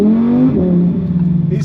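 A Lamborghini Huracan Performante's V10 engine revs loud and close, its pitch climbing, then dropping and settling into a steady throb, heard alone.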